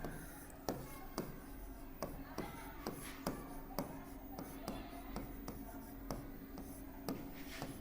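Chalk tapping and scraping across a blackboard in a Class 6 maths lesson, a steady run of short sharp strokes about every half second, close and moderately loud, with no talking.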